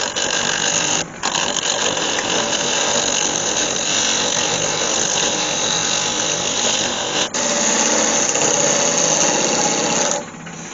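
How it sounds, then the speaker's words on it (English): Wood lathe turning a bowl of Milliput and walnut, a skew chisel cutting across the spinning piece: a steady, loud mechanical whir with continuous scraping that continues alone for the whole stretch, dipping briefly twice. "I'll just clean this up now. Again, I'm just going to use my skew chisel."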